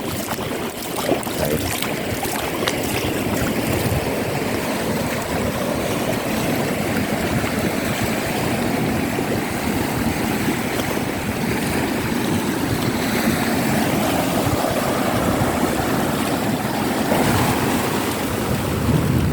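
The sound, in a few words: sea waves breaking continuously on a long beach, Mae Ramphueng, Rayong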